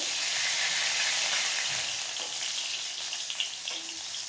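Mushroom pakoras fry in hot oil with a bright, continuous crackling sizzle that eases slightly toward the end, with a few soft stirring clicks and no voices.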